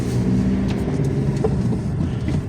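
A car, left standing for about three months, pulls away with a steady, loud engine rumble and light acceleration, the drone continuing evenly throughout.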